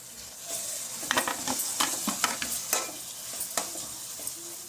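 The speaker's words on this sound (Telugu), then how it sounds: "ఫ్రై అయిన తర్వాత టమాటా ముక్కలు ఇందులో వేసుకుందాం." Tomato pieces fry with onions in a pan under a soft, continuous sizzle, while a spoon scrapes and stirs in a quick series of clicks and knocks.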